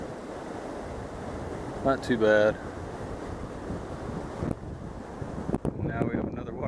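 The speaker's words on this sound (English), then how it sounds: "Now we have another waterfall right down here to portage around." Rushing river waterfall and strong wind on the Bloodvein River form a constant broadband roar with buffeting gusts across the microphone, while a voice speaks briefly.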